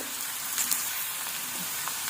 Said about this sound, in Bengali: মাছগুলো ভাজার পর আলু ভেজে নিচ্ছি এটা নতুন আলু